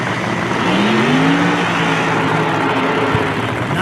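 A nitro funny car engine at a drag race roars loud and close, with a rising and falling pitch sweep over a continuous rumbling crowd-and-track background.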